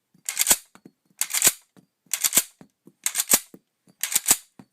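An M1 Garand rifle is dry-cycled through its rounds, producing five sharp metallic action clacks at roughly one-second intervals, close and crisp in an otherwise quiet setting.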